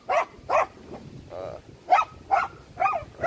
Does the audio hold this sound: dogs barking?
yes